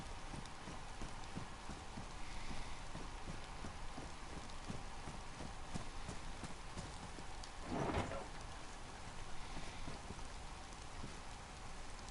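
Steady rain falling in the survival video game DayZ, a continuous hissing patter at a low, even level, with a brief louder burst partway through and no voices.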